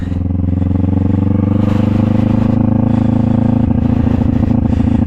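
A motorcycle engine drones loud and close for the whole clip, pulling away steadily in first gear after the clutch is released.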